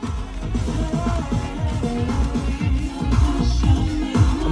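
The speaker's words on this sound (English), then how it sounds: "Actually, it's a Bose sound system." Music playing through a ten-speaker, 800-watt Bose sound system inside a Mazda CX-5, a steady, full mix with a strong bass line and rhythmic beat, heard alone without talking.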